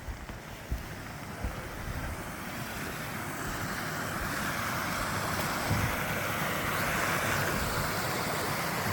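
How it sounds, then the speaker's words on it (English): Water spilling over fallen logs in a small stream during a hike, a steady broadband rush of flowing water with some wind buffeting the microphone, continuous and fairly close. "Fallen logs have made a kind of a waterfall."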